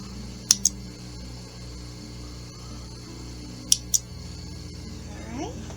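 Scissors trim quilt fabric in two quick pairs of crisp snips spaced a few seconds apart, close and clear over a low steady background hum, with no one talking.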